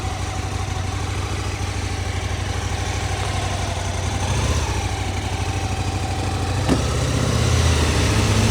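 A motorcycle engine idles nearby with a steady low rumble and even, rapid pulsing while being loaded into a converted horse trailer, with a brief clunk partway through and the note swelling slightly toward the end.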